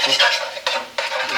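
A pan is scraped while being deglazed for Sunday gravy, with several quick rasping strokes of a utensil against the metal over a soft sizzle, close and fairly loud.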